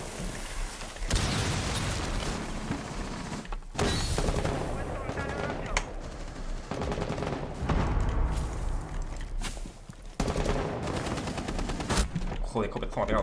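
Gunfire in Rainbow Six Siege, shotgun blasts included, pounds continuously and loudly, with dense bursts broken by short pauses, while a player talks excitedly over the shooting.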